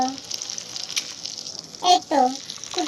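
Jaggery sizzling and bubbling in a hot wok while it is made into a filling for winter pithe, a steady low crackle with brief louder bursts of frying near the end.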